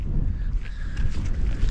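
Strong wind buffeting outdoors, a continuous low roar with gusty rumble across the whole stretch, no other sounds standing out.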